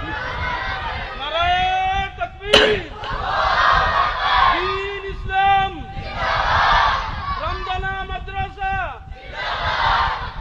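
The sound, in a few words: crowd shouting takbir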